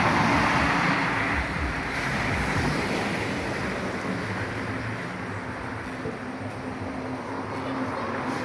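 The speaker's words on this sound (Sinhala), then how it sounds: "මේ තියෙන්නේ හබරන පොළොන්නරු කොළඹ ප්‍රධාන පාර" Traffic rushes along the Habarana–Polonnaruwa–Colombo main road, a steady broadband roar of passing vehicles with a wind-buffeted microphone and no clear gaps.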